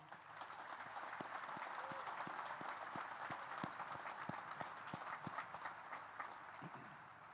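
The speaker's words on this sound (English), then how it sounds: "How about a big round of applause," Crowd applause at a Naval Academy graduation ceremony, a broad, distant wash of clapping from a large outdoor audience with some rhythmic, unison-like claps poking through, faint and steady throughout.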